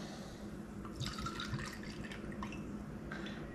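Pisco poured from a bottle into a cocktail shaker for a classic Peruvian pisco sour, giving a steady close liquid trickle and splash with a few brighter bursts, alone with no talk.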